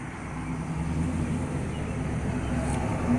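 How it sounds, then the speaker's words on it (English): Steady road traffic noise from a nearby roadway fills the background as a continuous low rumble and hiss that swells slightly, with no clear voices over it. "okay, there's noisy traffic behind me"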